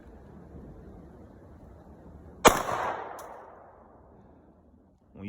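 One sharp pistol shot from a Glock or Taurus cracks fairly close and rings out into a fading echo, with quiet background noise around it and a faint thump at the end.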